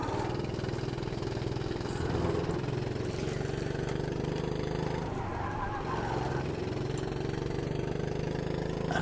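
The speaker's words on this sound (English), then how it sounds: "the single cylinder engine probably makes it feel or sound slower than it's going" A single-cylinder racing kart engine in the Automobilista 2 sim drones steadily with a buzzy, continuous note, holding a fairly even pitch with slight rises and dips throughout, no voices over it.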